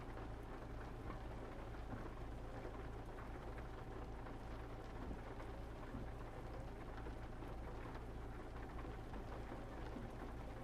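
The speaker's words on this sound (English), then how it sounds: "I do appreciate the rain." Steady, even rain falls in American Truck Simulator while driving through Wyoming, a continuous hiss with a low rumbling undertone that stays constant throughout, with no voices.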